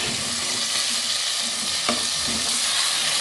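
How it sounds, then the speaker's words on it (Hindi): Chicken pieces fry in hot oil inside a handi pot, giving a dense, loud, continuous sizzle with a brief scrape of stirring partway through, no talking. "ये मैंने हांडी में ऑयल डाल दिया और चिकन डाल दिया। ये देखें, इसको थोड़ी देर आपने फ्राई करना है।"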